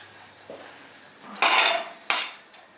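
Spinach pasta with leeks being stirred in a pan, a few distinct clanks and scrapes of a utensil against metal, close and clear against a quiet background.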